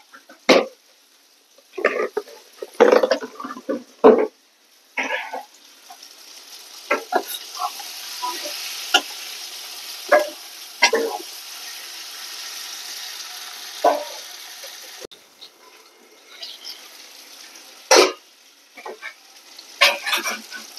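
Potol (pointed gourd), shrimp and tomato cooked down with spices and a little sugar in oil, giving a faint steady sizzle with repeated louder stirring scrapes and clatters, plus an occasional cough.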